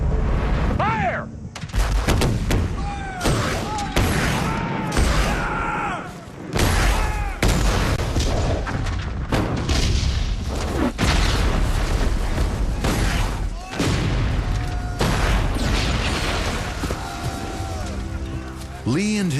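Recreated Gettysburg battle: dense rifle volleys and booming artillery fire crash repeatedly and loudly throughout, with a shouted command and narration over the din.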